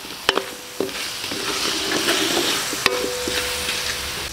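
Potatoes frying in a pan for batata harra, a steady, close sizzling hiss broken by a few sharp clinks of a utensil against the pan.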